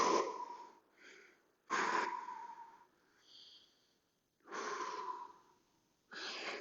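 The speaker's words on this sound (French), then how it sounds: "Prenez le temps de bien respirer." Deep, audible breaths during a balance and abs exercise session, slow alternating inhales and exhales that come in long breathy swells separated by short pauses, close and alone.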